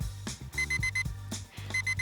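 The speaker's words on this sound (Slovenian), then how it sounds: "Nastavil je budilko, ker bi se zjutraj rad odpravil na lov za izgubljenim receptom." A bedside alarm clock rings in rapid repeating electronic beeps, loud and close, sounding in short bursts with brief gaps between them.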